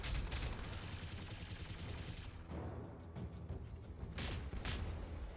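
Turrets open up in Battletech, dense bursts of rapid mechanical gunfire and heavy impacts rattling nonstop, with a few louder sharp cracks near the end.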